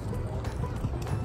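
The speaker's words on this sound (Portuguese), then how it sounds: "Tem um monte de cavalo aqui, ó." Horses being trained and warmed up at a track make a steady clip-clop of hooves, partly buried under dense outdoor noise and wind.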